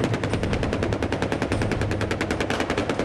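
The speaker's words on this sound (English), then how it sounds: "First up, the 30mm cannon." Rapid sustained burst from the 30mm chain gun cannon of an Apache attack helicopter, a dense, evenly spaced string of loud heavy shots hammering without pause for about three seconds, no voices.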